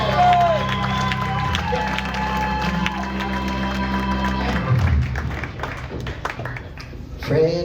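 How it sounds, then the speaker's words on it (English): A holiday gala audience at a comedy venue claps and cheers for Fred Armisen, with music and voices mixed in. The crowd noise thins midway and then swells again near the end. "Another round of applause for Fred Armisen"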